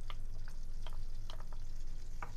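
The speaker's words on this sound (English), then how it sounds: "So once the butter has melted, now we're going to add in the garlic." Garlic sautés in melted butter in a pan while cooking chicken stroganoff, a steady close sizzle with scattered crackles and pops throughout.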